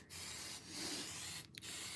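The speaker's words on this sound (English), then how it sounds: "just lightly dust it with the hairspray until you can start moving in" Hairspray aerosol misted onto an N scale model railway layout in short hissing bursts, moderately quiet and close, with brief pauses between sprays.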